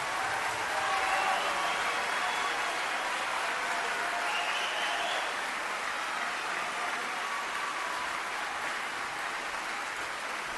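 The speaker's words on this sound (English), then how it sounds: "Could a big round of applause." Steady applause from an audience for graduates at a Cal State Northridge music program, continuous broadband clapping that fills the whole stretch at an even level with a faint murmur of voices.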